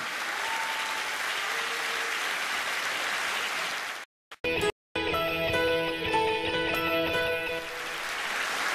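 Dense audience applause fills a concert hall after a little girl's performance, steady and loud, briefly cut by two gaps before music with a rhythmic beat enters beneath the continuing clapping.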